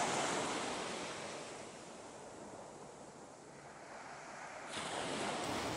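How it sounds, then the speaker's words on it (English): Ocean waves break on a shoreline, a continuous broad wash of surf that swells, eases off, then builds again, heard from close by with some wind noise and no speech. "The waves are relentless"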